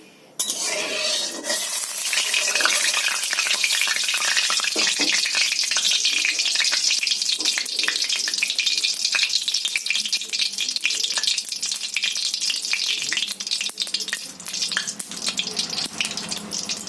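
Pieces of katla fish slid into hot oil in a kadai, a loud, steady crackling sizzle that holds up close and continuous throughout.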